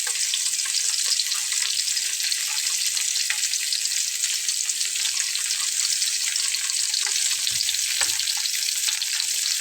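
Whole fish stuffed with garlic fries in a pan with oil, giving a loud, constant close-up sizzle and crackle that continues throughout without any voice.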